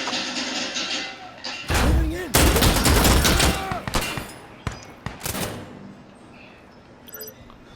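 Rapid bursts of automatic gunfire and single shots crack loudly in the shooter game Insurgency: Sandstorm, dense at first and then thinning to scattered distant pops, with a player talking over parts of it.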